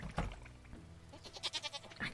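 A goat bleats in the Stardew Valley farm game, a wavering, quavering cry rising late over soft game background sounds, fairly quiet.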